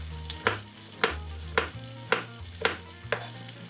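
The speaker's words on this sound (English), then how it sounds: "And I also have some walnuts that I rustled up. Just gonna coarse chop." Walnuts coarsely chopped with a knife on a board: six sharp, evenly spaced chops about half a second apart, close and fairly loud, with a faint low hum underneath and no talking.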